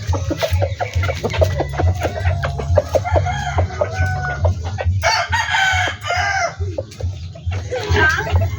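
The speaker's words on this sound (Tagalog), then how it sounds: "medyo malakas tumukha ang ating bagong biling manok" A newly bought backyard rooster crows loudly and close by, several drawn-out calls rising over a steady low rumble, with brief clucking between them.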